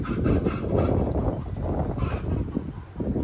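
Garden chickens calling in a dense, continuous run of clucks and squawks, fairly loud and close, with no talking over them.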